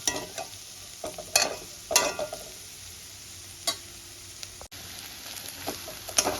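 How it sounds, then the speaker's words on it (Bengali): Onions frying in a pan with a little salt, cooked until red-browned: a soft, steady sizzle with a few sharper scrapes and stirs, fairly quiet and close, with no one talking. "পেঁয়াজটা আমার লাল করে ভাজা হয়ে গেছে।"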